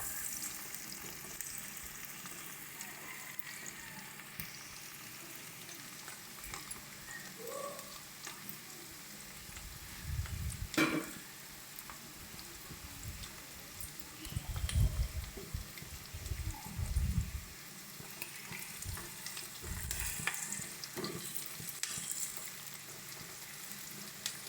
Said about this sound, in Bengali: ভালো মতন পেঁয়াজ ভেজে নেব।